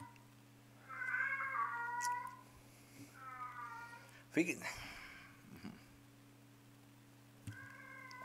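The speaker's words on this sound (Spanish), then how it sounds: "Aquí tengo un gatito que está dando algo de lata" A hungry kitten meows loudly and repeatedly in drawn-out cries, close by, beside a steady low mechanical hum, with a brief spoken word partway through.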